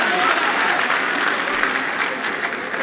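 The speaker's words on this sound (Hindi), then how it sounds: "जोरदार तालियां साथियों, जोरदार तालियां।" An audience at a Hindi-Urdu poetry performance breaks into sustained applause, dense steady clapping from a crowd that stays loud for about three seconds before easing slightly.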